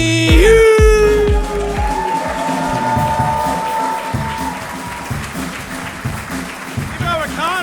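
A stand-up comedy audience claps and cheers for comedian Cody Hughes in a dense, sustained wave of applause, while a voice speaks loudly over the start and it tapers slightly toward the end.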